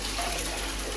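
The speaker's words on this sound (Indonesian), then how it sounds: "kalau saya flush" A toilet flushes in a rental apartment unit at Mentari Court, giving a steady, close rush of water that runs for the whole moment without pause.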